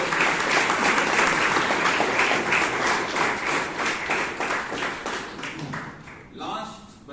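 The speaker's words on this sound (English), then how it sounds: "So please give everybody a big round of applause." Audience applause at a Toastmasters club meeting, a dense sustained burst of many hands clapping that tapers off toward the end, with a voice briefly audible as it fades.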